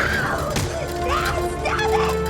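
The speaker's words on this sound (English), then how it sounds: "A cartoon bad guy just smashed a candy car with his house-sized fists" A cartoon bad guy with huge fists smashes a candy car: crashing, shattering impacts and thuds over a dense bed of film music and voices.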